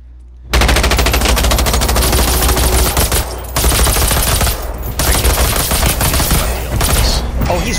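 Sustained automatic machine gun fire in the video game Generation Zero, loud and continuous for several seconds with only brief gaps between bursts.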